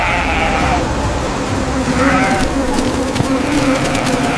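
Sheep bleating, several wavering cries overlapping at close range with a buzzing insect-like hum around them, fairly loud and continuous.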